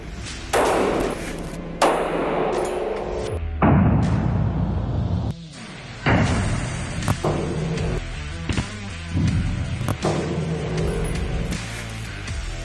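An FN 509 LS Edge pistol fired at an indoor range: a series of loud, sharp, booming reports spaced irregularly over several seconds, each with a short reverberant tail and no talking.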